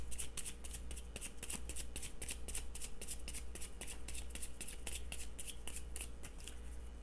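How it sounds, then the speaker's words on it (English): Oracle cards are shuffled steadily by hand, a close, continuous series of quick crisp riffling snaps that repeats in a rapid even rhythm with no one talking. "we will pull some oracle cards for you"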